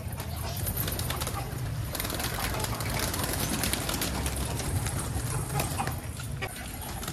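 Pigeons coo in a low, continuous burbling chorus close by, along with fluttering and scratching movement, with no talking.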